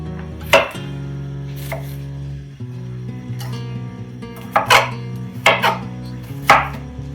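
A knife chops garlic and onion on a cutting board in scattered sharp knocks, a few spaced strikes then a quicker cluster, close up over a low steady hum.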